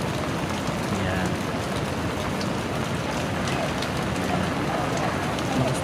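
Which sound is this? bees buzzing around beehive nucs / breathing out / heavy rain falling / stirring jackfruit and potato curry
heavy rain falling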